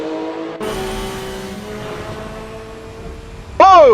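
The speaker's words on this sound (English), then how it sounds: "Listening to the lovely sounds of the traffic." Race car engines in a 24-hour Le Mans racing game hum and whine steadily as traffic passes, ending with a loud car sweeping close by with a rising and falling engine note.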